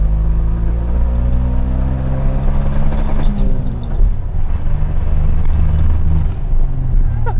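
A Suzuki Cappuccino small roadster engine accelerates hard toward its 8,500 RPM red line, its loud droning tone climbing steadily with a brief dip, heard from inside the car.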